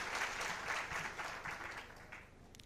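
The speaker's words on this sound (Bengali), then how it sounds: "সবাই একটা তালি দেবেন।" An audience applauds at a security conference talk, with dense, sustained clapping that is fairly distant and fades slightly toward the end.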